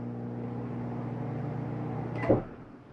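A steady low electric hum drones on from a running microwave in a 2018 Forest River Rockwood 8335BSS travel trailer, ending in a sharp clunk of the door near the end.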